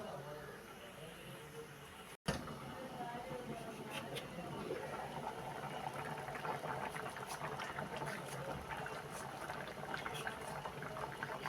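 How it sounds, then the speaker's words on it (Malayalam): A pot of coconut-ground fish curry boiling on the stove, a steady soft bubbling hiss with scattered small pops, close and continuous, quiet throughout after a brief cut near the start. "ഇപ്പം നമ്മളെ കറി അടിപൊളിയായിട്ട് തിളച്ച് വരുന്നുണ്ട്"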